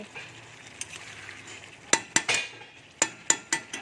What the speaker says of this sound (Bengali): এখন আলুগুলো দিয়েও আমি কষছি